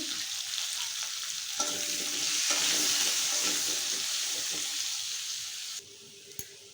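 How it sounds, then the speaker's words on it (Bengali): Potatoes frying in oil with salt and turmeric: a steady hissing sizzle that swells in the middle and eases toward the end, with a light utensil clink near the close. "এখন আলুগুলো ভেজে নেব এই তেলে।"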